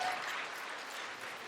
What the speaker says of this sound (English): with your applause, you tell us what your choice is